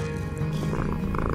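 A cat purring in the video game Quilts and Cats of Calico: a steady, soft, low rumbling purr that runs continuously, with a faint tonal game backdrop behind it.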